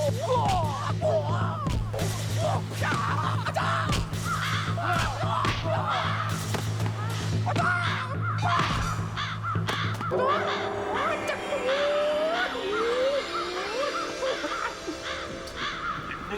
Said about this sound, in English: What is that? Stupid crows.